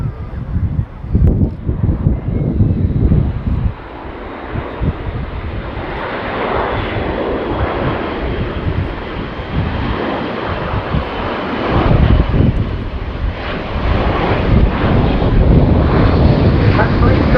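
A large Airbus A400M turboprop transport flies a slow pass at an airshow, its loud continuous engine roar swelling and surging with wind buffeting, a commentator talking over it.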